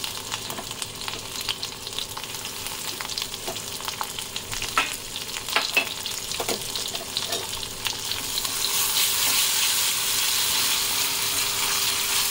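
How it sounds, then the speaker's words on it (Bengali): Black cumin seeds, slit green chili and grated ginger hit hot oil in a pan with a crackling sizzle, sharp pops and stirring scrapes, swelling into a louder, denser hiss toward the end. "এবার ফোড়ন দিচ্ছি আমি কালো জিরে, একটা কাঁচা লঙ্কা চিড়ে নিয়েছি"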